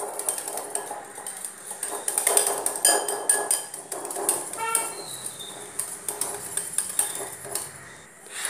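A spoon stirring and mixing kulfi mixture with cardamom powder in a bowl, giving light, steady clinks and scrapes of metal against the dish, fairly quiet and close.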